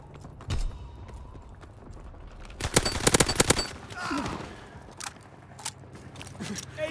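A rapid volley of gunfire rattles in a video game battle, with isolated shots before and after a dense burst in the middle, set against low background rumble and action noise.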